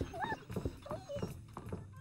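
A dog in the video game Neighbours from Hell gives several short whining, yelping barks with rising and falling pitch, fairly close, while a person talks over it.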